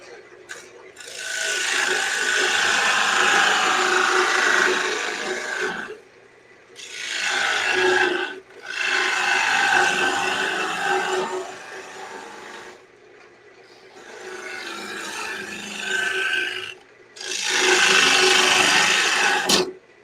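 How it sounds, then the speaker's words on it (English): A bowl gouge cuts into wood on a lathe, giving long bursts of rough, rasping shaving noise broken by short pauses, loud and close with no talking. "What I should do is get my bowl gouge and work it that way."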